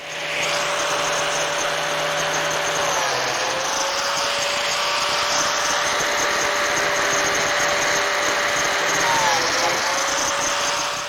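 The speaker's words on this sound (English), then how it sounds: "to reinforce that joint, I'll be cutting some number 10 biscuit slots" A biscuit joiner running loud and continuous while cutting number 10 biscuit slots in a miter joint for a small auxiliary workbench frame, its whine dipping briefly as the blade plunges into the wood.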